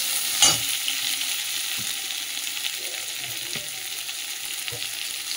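Garlic and onion fry in fish oil, crackling and hissing steadily up close while a few soft scrapes and taps from stirring cut in, and no one speaks.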